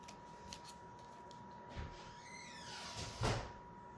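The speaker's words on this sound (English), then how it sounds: "And there we go with the door again." A door opens or closes somewhere in a quiet craft room, heard as a faint creak and a soft knock followed by a clunk. Gentle rustling sounds occur around it.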